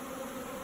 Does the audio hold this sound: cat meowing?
no